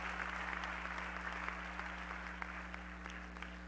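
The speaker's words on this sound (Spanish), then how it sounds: "Dele el aplauso al Señor porque Él se lo merece." A church congregation applauding steadily throughout, a dense even patter of clapping at moderate level over a constant low electrical hum.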